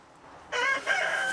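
A chicken on a frosty November allotment lets out one loud, close crow that begins abruptly after a quiet moment and carries on to the end.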